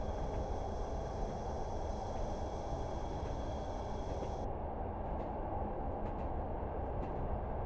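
An old-style diesel mechanical train with a gearbox runs on the line between Barnard Castle and Crook, heard as a steady droning rumble from inside, even and continuous with no talk.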